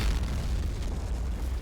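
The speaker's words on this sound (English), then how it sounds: "look, the explosions on that one." Deep, heavy explosions rumble in a video game battle, a near-continuous low booming barrage that stays loud with no pause across the short stretch.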